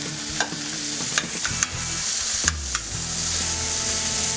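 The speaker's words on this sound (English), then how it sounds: "let those guys saute" Chicken pieces sautéing in a pan, a loud continuous sizzle broken by several sharp scraping knocks as they are tossed and turned, close by.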